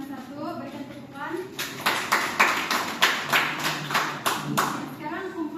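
A classroom group claps together during a Malay-language mock teaching lesson, a burst of brisk applause of several seconds rising and fading, with a teacher's voice heard faintly before and after.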